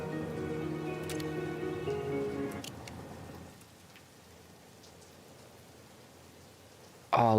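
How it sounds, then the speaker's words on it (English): Rain from a video game falls as a steady soft patter, with a tonal in-game hum fading out early and a brief louder burst at the end. "Listen to that rain."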